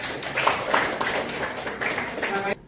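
Students in a classroom give a short burst of scattered applause, many hands clapping together for a couple of seconds before it cuts off.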